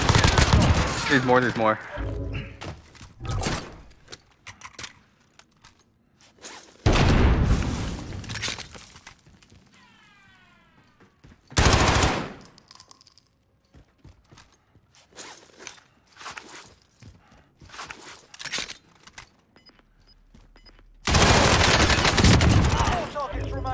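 Bursts of automatic gunfire in Call of Duty: Warzone, loud and repeated in several separate volleys spread across the stretch, with a player talking in the quieter gaps between them.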